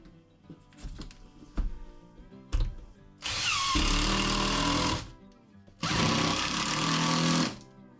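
A power drill drives screws into sheathing on a shop wall: two loud, sustained whirring bursts of a few seconds each, preceded by a handful of sharp knocks and taps close by.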